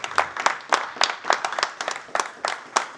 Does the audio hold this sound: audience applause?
yes